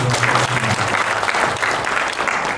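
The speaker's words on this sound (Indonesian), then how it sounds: "tepuk tangan" Applause from an audience at a port staff training event in Indonesia, a short burst of many hands clapping close and fairly loud, with a brief low tone sounding underneath at the start.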